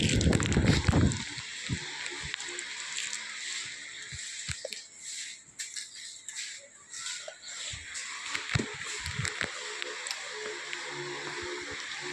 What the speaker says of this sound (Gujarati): હવે હું પાણી પીવું છું ફ્રીજમાંથી ઠંડુ